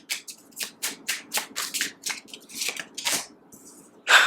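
A deck of tarot cards is shuffled by hand in quick, repeated riffling bursts, crisp and close, with a louder final snap of cards at the end and no voices.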